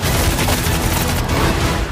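Dense, sustained gunfire fills a crime-film scene from the 2020 film The Gentlemen, a loud continuous barrage of overlapping shots and booms with no clear gaps between them.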